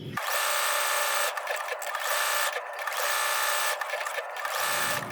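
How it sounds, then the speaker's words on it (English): A sewing machine appliqués a piece onto a baking-themed quilt block, a continuous close, bright high-pitched whirring hum with rapid needle chatter, pausing briefly in spots and stopping at the end. "I'm going to go ahead and sew this. I'm going to applique this piece on first."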